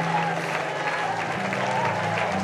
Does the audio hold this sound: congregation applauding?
yes